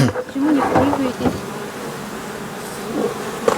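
Honey bees hum near a hive, a steady droning buzz that is loudest at the start and then settles to a softer, continuous whine, with some background handling noise.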